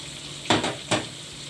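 Tempeh frying in a pan, a soft steady sizzle under two quick bursts of stirring or scraping close by, with no talking.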